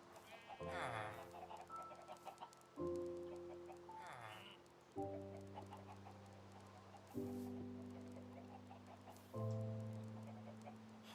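Chickens in the Minecraft SkyBlock video game cluck in repeated short bursts, with several clusters spaced a couple of seconds apart and steady tonal game sounds underneath, moderately loud with no voices.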